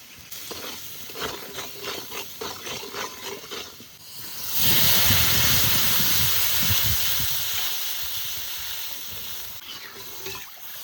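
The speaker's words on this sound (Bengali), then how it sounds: "এবার লবণ আর হলুদ দিয়ে জল দিয়ে দেবো" Fried potatoes in a pan are stirred with salt and turmeric, scraping under a light sizzle, then water is poured in and a loud hiss of steam bursts up and slowly fades, close by with no talking.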